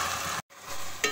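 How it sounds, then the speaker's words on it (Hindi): Masala spices frying in a pan for a baingan salan give a steady, close, loud sizzle with stirring, briefly cut off by a short gap before the hiss resumes. "देखिए मसाला पकते हुए एक मिनट हो गया है"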